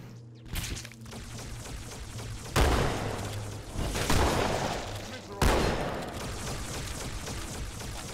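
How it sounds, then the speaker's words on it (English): Heavy gunfire in Halo 2 on Legendary, sustained bursts of shots with loud booming impacts and explosions landing at intervals, loud and close throughout. "Yeah, nice shooting, dude."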